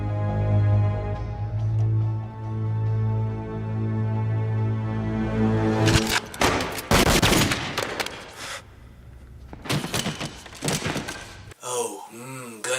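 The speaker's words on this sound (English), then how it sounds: "Oh, gunshots." Bursts of film gunfire from the action movie Ultraviolet break in after a sustained low musical drone, with rapid cracks and volleys clustered in the second half, loud and dense like automatic weapons, ending in a brief rhythmic stretch.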